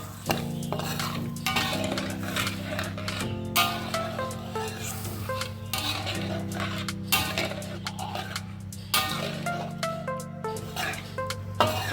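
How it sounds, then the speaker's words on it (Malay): A utensil stirs a sauce mixture with shallots in a pan, making repeated scraping and clinking strokes against the metal with a soft sizzle underneath, close and continuous, with no talk. "Masukkan sos sepenuhnya dan gaul bersama dengan bawang Holland tadi."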